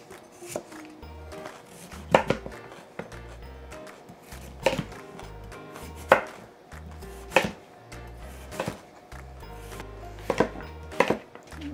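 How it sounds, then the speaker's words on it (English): A knife chops through kohlrabi on a cutting board, making irregular sharp thuds every second or so with some faster bursts, close and clear with no talking. "I'm just cutting my kohlrabi into even chunks"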